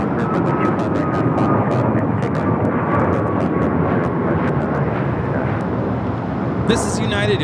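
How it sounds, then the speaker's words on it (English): A United Airlines Boeing 737 MAX 9 takes off from runway 25 Right at LAX, its steady engine roar filling the whole stretch at a constant loud level. "Let's go to our first takeoff here on the south side."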